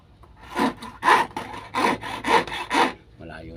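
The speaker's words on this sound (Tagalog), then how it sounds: "May lagaring ganito para makapasok dito sa loob para pampinis" Hand saw cutting wood during finishing work on a wooden piece, six rhythmic rasping strokes close up, each stroke a distinct scrape with short gaps between, no voices.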